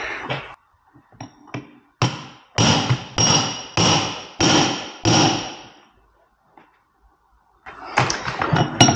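Heavy hammer strikes on a Harley Davidson trike differential: a handful of loud, ringing metallic blows spaced about half a second apart, close up, with a burst of clanking after a short pause.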